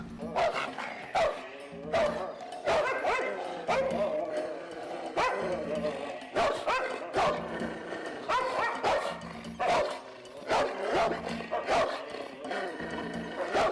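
Dog barking repeatedly at a snake outdoors, rapid bursts of barks and yips with whimpers, moderately close, over background noise.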